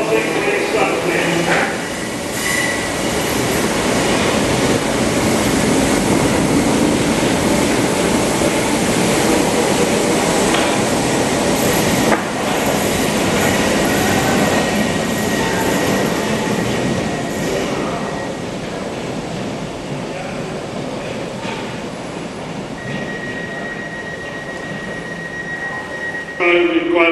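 A train rumbles past at length on Merseyside with rail clatter and occasional squeal, loud and continuous, with voices and platform announcements faintly underneath.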